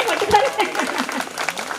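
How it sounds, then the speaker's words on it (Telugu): An audience at a 2003–2004 batch reunion get-together claps briefly, the applause blending with a voice talking over it. "ఫస్ట్ మీరు క్లాప్స్ కొట్టుకోండి."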